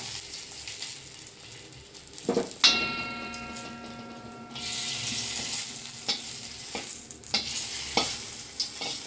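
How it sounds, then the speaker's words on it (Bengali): Nigella seeds and whole dried chilies hit a little hot oil in a pan for a vegetarian bitter gourd mash, giving a sudden crackling sizzle that settles into a steady fry with occasional stirring clicks and no talking. "ওটা নামে সামান্য হাফ চামচ তেল দিয়েছি, দিয়ে দেবো একটু কালো জিরে, গোটা শুকনো লঙ্কা"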